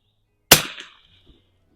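A single sharp crack from a Savage 19 NRA Match .22 target rifle, close and loud with a quick decay, followed by faint handling noise.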